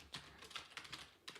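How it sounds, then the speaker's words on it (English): Quick taps on a computer keyboard, close and quiet, as separate clicks in short uneven bursts with small pauses between them. "Sorry about the typing as well. I promise I type gently, but it sounds so loud."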